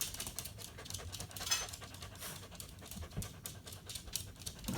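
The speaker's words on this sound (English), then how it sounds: "their adorable puppy Yuki" A puppy pants rapidly and steadily close by, quick breathy huffs repeating without a break for several seconds.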